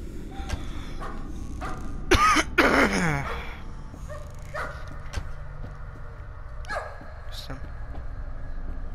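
A dog barks and whimpers in the horror video game Layers of Fear, with a short burst of barking near the middle over steady game ambience, while a person talks through much of the scene.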